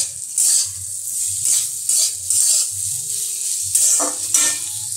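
Ivy gourd (kundri) fries in a pan with turmeric and a little sugar, giving a steady bright sizzle broken by repeated stirring scrapes in a loose rhythm, close and fairly loud, with no voices.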